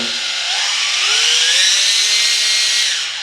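KDN Klein budget mini polisher, a digital dual-action and rotary machine, whining up from rest as its speed is stepped higher, a close, steady motor pitch rising in one smooth sweep before easing off near the end.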